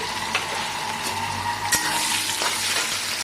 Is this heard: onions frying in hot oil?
yes